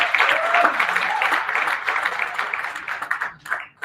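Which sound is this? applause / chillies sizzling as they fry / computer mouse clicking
applause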